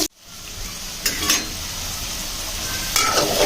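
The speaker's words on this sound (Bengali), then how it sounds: "আমি আলুগুলোর মধ্যে একটু হলুদ দিয়ে সুন্দর করে ভেজে নিচ্ছি আলুগুলোকে লাল লাল করে ভেজে নেব" Potatoes fry with turmeric in a pan, giving a steady sizzle and hiss broken by a few sharp stirring scrapes near the start and end, with no voices.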